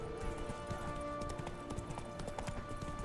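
Clip-clop of the horse Roach galloping in The Witcher 3, a steady run of hoofbeats throughout, loud and continuous over game ambience.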